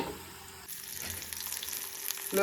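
Chopped shallots dropped into hot oil for a dry shark fish curry start to sizzle after a quieter moment, the frying hiss swelling and staying steady with faint stirring.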